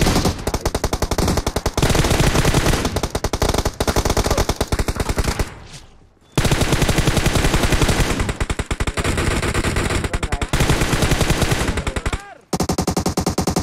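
Automatic gunfire in the mobile battle royale game PUBG Mobile rattles in loud, rapid bursts, with short gaps between volleys and a brief pause midway.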